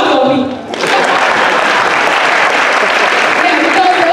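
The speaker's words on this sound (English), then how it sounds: "Clap for me" An audience at a Girls in ICT mentorship day event bursts into loud, sustained clapping after a brief quieter moment, the dense applause continuing steadily to the end.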